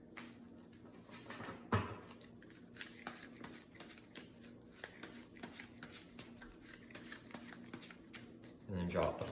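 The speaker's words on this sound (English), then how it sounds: "And then let's shuffle up the player deck here." A deck of playing cards for a tabletop card game is shuffled close up in a quiet room, with repeated soft riffling and papery flicks.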